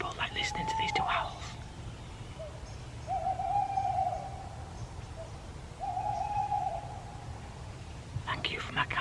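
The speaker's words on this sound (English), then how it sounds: "Just something simple like listening to these two owls." Two owls hoot back and forth at a nighttime campsite, drawn-out calls rising over a quiet hush of ambient noise, with soft whispered voices at the start and end.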